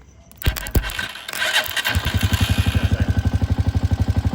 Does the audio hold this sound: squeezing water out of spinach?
no